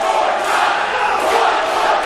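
Dense, steady roar of a packed wrestling arena crowd cheering and shouting at an indie wrestling show, loud and continuous with no break.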